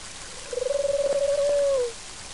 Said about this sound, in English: And hey, there's that carrier pigeon.